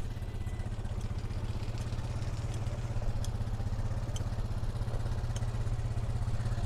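Four-wheeler ATV engine idling steadily on a sheep and goat farm, a constant low mid-pitched chugging hum with light clatter, close and unbroken with no talk.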